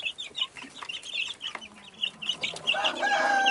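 Young chickens kept in a coop cluck and peep in short repeated bursts, fairly close and moderately quiet, with a slightly louder, busier stretch of calls toward the end.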